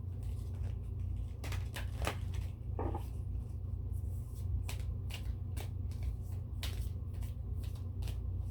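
Keeper of Light oracle cards being shuffled, a soft continuous riffling and flicking of card stock with repeated sharper slaps, close and quiet over a low steady background hum, no talking.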